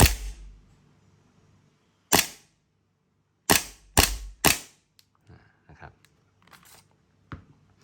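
A loud Tokyo Marui Samurai Edge Hi Grade gas airsoft pistol shot, then a rapid string of three closely spaced shots, followed by quieter mechanical clicks and a last sharp pop.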